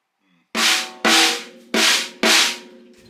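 Four firm, short snare drum hits, damped with one finger, giving a controlled ring, spaced about half a second apart, close and loud with nothing else around them.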